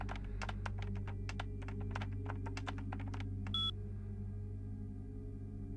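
Rapid, uneven keyboard typing clatters in bursts over a steady low electronic hum, ending with a brief bright beep during a hacking attempt in the game Vampire: the Masquerade - Bloodlines, with no voices.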